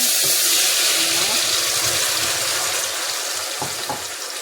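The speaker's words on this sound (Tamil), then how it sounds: "வெறும் பெருஞ்சீரகம் போட்டு தாளிக்க போகிறோம்" Seeds sizzling and crackling in hot oil, a loud continuous hiss with occasional small pops.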